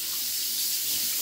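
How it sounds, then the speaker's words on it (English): Tap water runs steadily into a kitchen sink while a pan is rinsed, a continuous close splashing hiss with no talk. "I'm just rinsing off my pan here,"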